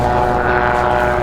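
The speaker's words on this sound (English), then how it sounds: "This plane's nicknamed the Swift." A vintage propeller airplane nicknamed the Swift at an antique aircraft fly-in, its engine and propeller droning loud and close in a steady tone throughout, no talk.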